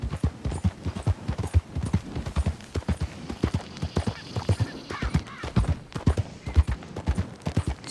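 Rapid, steady clip-clop of horse hooves at a trot in Red Dead Redemption 2, close and continuous, with a voice talking over it now and then.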